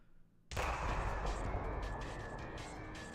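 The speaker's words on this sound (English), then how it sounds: "There's a small explosion in the room filled with smoke." A small explosion sound effect from the Steins;Gate 0 visual novel: a sudden loud broadband burst that cuts in from near silence and lingers as a dense, roaring wash to the end.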